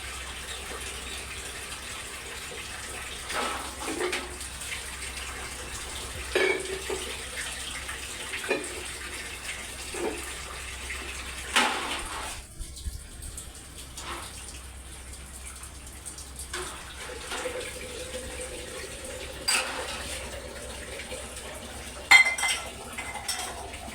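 Dishes and cutlery clatter and clink in scattered bursts as they are washed under a running tap, with water gushing softly in the background throughout.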